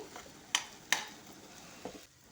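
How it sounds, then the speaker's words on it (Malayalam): Avocado and capsicum being stirred in butter in a pan: a soft continuous sizzle with two sharp scraping clinks of the spoon against the pan and a fainter knock near the end. "കുറച്ച് ബട്ടറിട്ട് ഇളക്കി"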